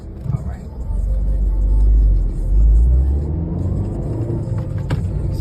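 A car brought out after long storage is driven on city streets, its engine rumbling and dipping briefly as gears change, with people talking over the drone.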